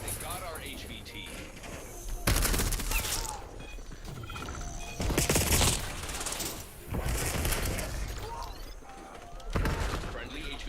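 Bursts of automatic gunfire crack out in Black Ops 7, several loud volleys separated by short gaps, with talk running underneath.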